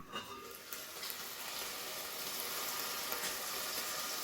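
Pork cooking in its own juices in a pan gives off a steady, close sizzle and soft frying crackle, a fairly even hiss with no voices.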